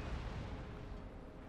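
A warship cannon broadside rolls out in a Napoleon Total War sea battle as a thick, booming low roar, loudest at the start and fading slightly over a second and a half, with no speech.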